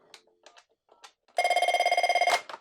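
A few faint clicks and beeps, then a Cisco IP desk phone rings loudly in a rapid trilling electronic burst for about a second before cutting off.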